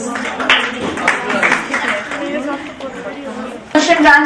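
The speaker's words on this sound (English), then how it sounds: "Clap for Shehla Raza" Audience clapping for a student at a Montessori conference, moderately loud and continuous, blended with chatter and voices in a room, rising sharply near the end.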